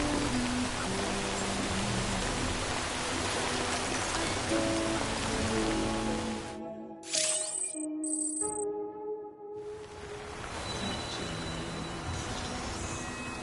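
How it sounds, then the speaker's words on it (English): Steady rain in the video game Death Stranding, a dense close patter that drops away for a few seconds to a quieter, sparse stretch of tones before the downpour returns. "No end to this rain."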